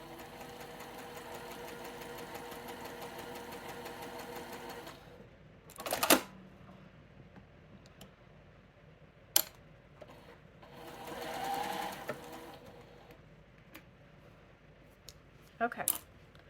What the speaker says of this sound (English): we're going to sew down this line, or just a hair to the right of this line